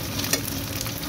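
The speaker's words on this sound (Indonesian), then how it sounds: "Panaskan sedikit saja minyak dalam teflon, kemudian kita goreng seperti ini ya." Slices of Taiwanese radish cake fry in a little oil in a non-stick pan, giving a steady, close sizzle with a faint stirring scrape and a brief louder pop near the start.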